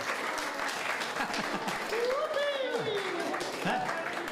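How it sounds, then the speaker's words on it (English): An audience at a pizza party sing-along keeps clapping in a steady wash, while voices murmur and one rises in a sliding call above the applause. "Wow, extended applause. Very nice."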